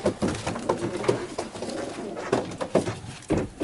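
Domestic pigeons, Fabry and Janssen racing strains, coo repeatedly in a loft, soft throaty calls overlapping in an irregular rhythm close by, with shuffling and background rustle.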